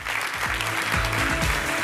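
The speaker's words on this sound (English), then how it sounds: "give it a warm applause" Audience applause for speakers at a tech talk, steady and fairly loud throughout, with a few brief background voices under the clapping.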